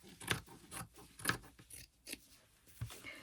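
Scissors snip through fabric patches for a patchwork journal cover, trimming a piece to fit the spine. About half a dozen crisp, close cuts come at an uneven pace with short pauses between them, fairly quiet and with no talking.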